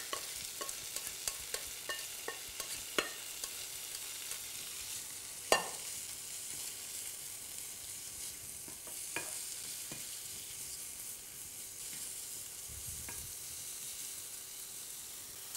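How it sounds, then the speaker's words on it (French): Thinly sliced onions sizzle steadily in a pan that was just used for cooking hake steaks, giving off a soft continuous hiss with occasional stirring clicks and scrapes. No one speaks. "Dans cette même poêle, je vais venir mettre des oignons émincés."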